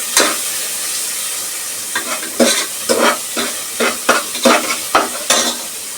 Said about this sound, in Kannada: ಇದು ಕಲರ್ ಚೇಂಜ್ ಆಗೋವರೆಗೂ ಫ್ರೈ ಮಾಡ್ಕೊಬೇಕು.